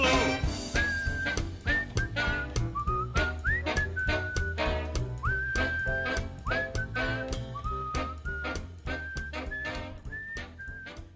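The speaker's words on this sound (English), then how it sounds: "Whistle solo." Whistled melody carried over a steady musical backing with drums and bass, the whistling clear and prominent in repeated sustained phrases throughout.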